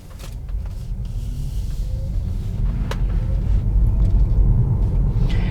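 A Tesla Model 3 drives along the road with a low, continuous rumble of tyres and wind that slowly grows louder, plus a few faint clicks inside the cabin.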